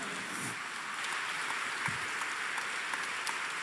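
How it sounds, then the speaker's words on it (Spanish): Church congregation at a diocesan congress applauding, a steady crowd clapping that sounds moderately distant and fairly even throughout, with no talk over it. "Un aplauso para el Señor."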